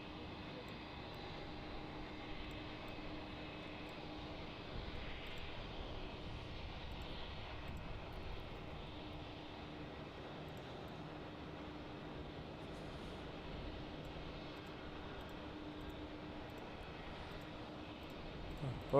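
A Singapore Airlines Cargo Boeing 747 at Melbourne Airport gives off a steady, moderately distant engine roar that holds for the whole stretch under faint background noise.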